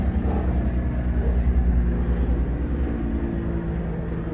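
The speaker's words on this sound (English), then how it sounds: "Let this helicopter go past." Helicopter flying overhead outdoors, a steady loud low rumble and rotor drone that holds across the whole stretch, swelling slightly as it passes and easing toward the end, with no talk.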